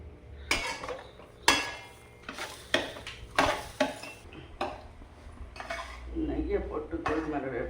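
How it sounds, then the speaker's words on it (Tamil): Samba wheat rava is being roasted in ghee in a pan, heard mostly as repeated scraping and clanking of a utensil against the metal pan, with a faint sizzle building toward the end. "நெய்யை போட்டு கோதுமை ரவையை போட்டு வறுக்க பொரிஞ்சு வரும், வறுத்து வரும்."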